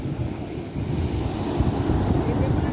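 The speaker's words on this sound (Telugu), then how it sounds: "వారానికి ఒకసారి ఈ సముద్రం ఒడ్డుకు వచ్చి ఈ వాతావరణాన్ని ఆస్వాదిస్తుంటే" Sea waves wash onto a beach in a steady, loud roar, with gusts of wind buffeting the microphone throughout and no voices.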